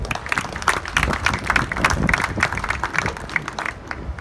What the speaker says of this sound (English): I want a big round of applause for the reigning IBF Super Bantamweight World Champion from Ireland, TJ Dehenny.